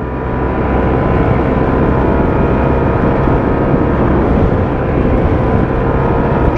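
A Yamaha TMAX 2022 scooter engine drones loud and steady on the move, with a continuous low rumble and wind noise throughout and no speech.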